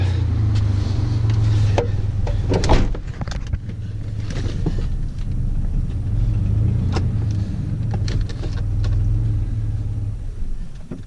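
Dodge Dakota truck engine rumbling steadily at close range with some clunks and knocks over the top; no voices, and no clear stall or cutoff is evident.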